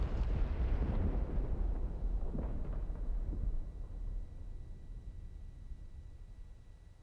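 A heavy artillery shell explodes in the DCS World combat simulator, a deep, rumbling boom that fades into a long rolling echo over several seconds.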